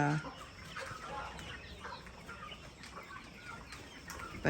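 Busy poultry yard with repeated clucking and squawking calls from guinea fowl, moderately close, overlapping in an irregular chorus against steady outdoor background noise.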